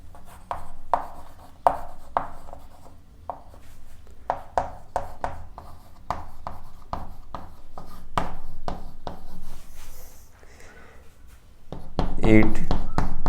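Quick taps and scratches of a pen or chalk writing lecture notes about amoeba digestion, an irregular run of sharp strokes with a steady background hum and a voice briefly near the end.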